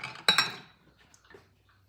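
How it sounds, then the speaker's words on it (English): Hot glass canning jars being emptied, with one sharp clink of glass near the start that rings out, then a few faint small taps in a quiet room. "So all I'm going to do is empty each jar."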